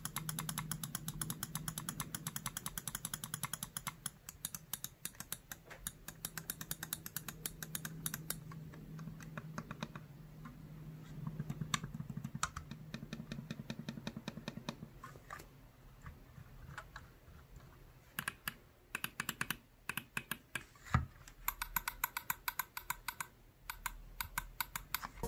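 Clicking of a white Corsair M65 Elite gaming mouse, a fast run of light, crisp clicks, some in rapid bursts, fairly close and alone with no talk.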